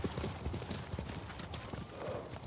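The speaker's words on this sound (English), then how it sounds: "You're a good horse." A horse's hooves clip-clop in Ghost of Tsushima, a quick, steady rhythm of close, quiet hoofbeats on ground continuing throughout, with faint talk.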